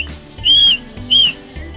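Camp leader blowing a whistle: two shrill, sustained blasts with a short gap between them, loud and close, followed by a faint trailing sound.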